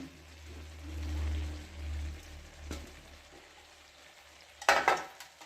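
Green chillies go into a hot pan of noodle masala and sizzle softly as they are stirred, with a low rumble near the start and a sharp scrape of the spatula near the end, close by and without talking.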